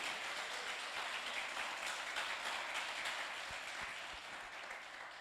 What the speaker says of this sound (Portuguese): Dê uma salva de palmas a Ele,